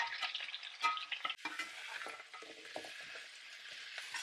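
Pumpkin pieces with green chilies, chili powder and coriander powder are stirred in a pan, giving a quiet, close scraping and gentle sizzle with a few sharper utensil knocks.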